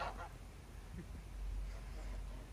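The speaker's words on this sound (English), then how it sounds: "This goose did not like me." A goose honks a few times, fairly faint, against a steady outdoor background along a rural bicycle route in Korea.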